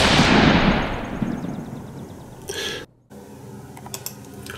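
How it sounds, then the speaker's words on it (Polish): A hunting rifle fires at a fox about 100 metres off: one loud, sharp report that rings out and decays over a couple of seconds, followed by a brief silence and quiet outdoor noise. "Strzał."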